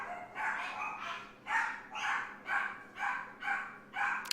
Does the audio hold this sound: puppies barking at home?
yes